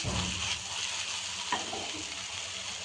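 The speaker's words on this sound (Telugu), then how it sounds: "స్టవ్ని హై చేసుకుంటూ సిమ్ చేసుకుంటూ మనం ఫ్రై చేసుకోవాలి" Meal maker soy chunks fry in a nonstick pan with a steady, close hiss of sizzling oil throughout, plus one brief clink partway through.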